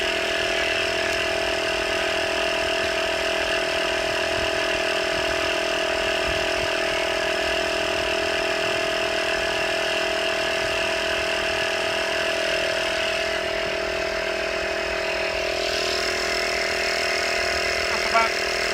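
A Conqueror 630 caravan's lock and level system air pump runs steadily throughout, a constant mechanical hum with a dense stack of buzzing tones at a fairly even level.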